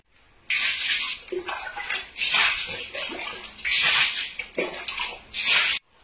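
Water poured in bursts over tiled bathroom floor during cleaning, several loud splashing gushes separated by short pauses, close by with no talking over it.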